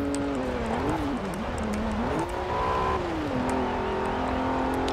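A stock 1992 Alfa Romeo 155 Q4 engine revving high in Forza Horizon 4, a steady whirring drone whose pitch rises and falls in several sweeps as it climbs and shifts, moderately loud and continuous.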